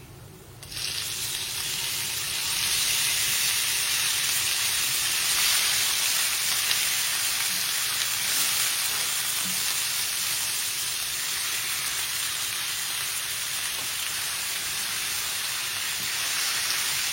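Chicken pieces frying in a pan, with a steady loud sizzle that holds constant throughout, lightly stirred at times and with no voices.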